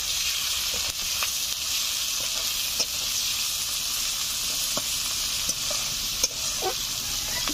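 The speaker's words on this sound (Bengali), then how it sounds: "তিন মিনিট আমি নেড়ে চেড়ে নিয়েছি" Chopped onions and green chillies with salt fry in a pan, making a steady close sizzle while being stirred, with scattered small scrapes and pops under the frying and no speech.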